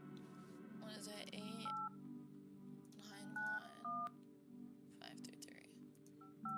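Telephone keypad tones beep in a video game, a few short dual-pitch presses spread over several seconds, mixed with a person talking over a steady background hum.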